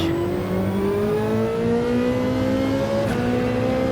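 A Ferrari 458 Italia engine revs hard in a racing game, a loud steady whine rising in pitch over a few seconds, cut by a quick gearshift dip near the end.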